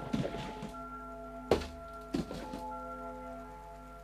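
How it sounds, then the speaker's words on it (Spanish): A cardboard box shifting and thudding inside a dim child's room in the horror game Among the Sleep, with sharp separate knocks at intervals over a quiet droning ambience, no talk. "La caja se mueve."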